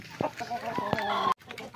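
Farm chickens, breeder and layer hens, cluck close by in short, uneven bursts, with a few brief sharp calls among them.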